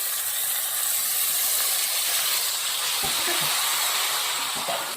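Spinach and dill leaves hit hot oil and set off a steady, bright sizzle and hiss that continues unbroken and fairly close, with a few soft knocks near the end.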